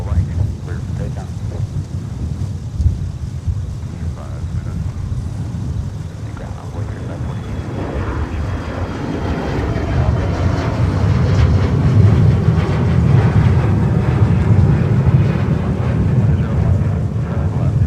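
An Endeavor regional jet rolls for takeoff on runway 30 right at Minneapolis–St. Paul in winter, a steady low jet-engine roar that swells louder toward the end, with no speech over it.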